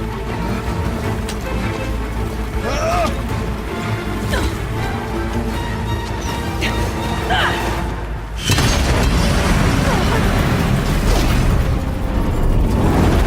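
Explosive ammunition detonates in the Horizon Zero Dawn: The Frozen Wilds video game amid constant loud combat noise, with booms and crashes. A sudden heavier blast about two-thirds through raises the overall din, and voices shout intermittently.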